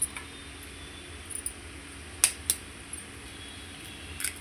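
Eggs being cracked for a bread omelette make a few faint, sharp shell taps and clicks close by, with a quiet kitchen background between them.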